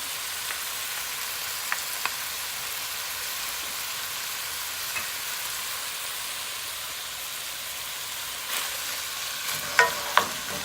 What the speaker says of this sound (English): So we're going to fry that up till the hamburger meat is browned and the onion is cooked